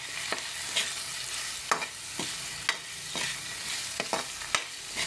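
Adobo heats in a pan with a steady sizzle, broken by repeated scraping stir strokes of a utensil at close range, with no voices.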